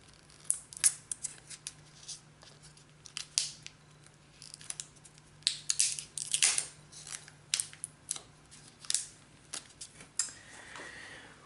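Scissors snip repeatedly at the plastic wrap around a deck of Chocobo playing cards, making close, sharp, irregular cuts and crinkles against a quiet room hum.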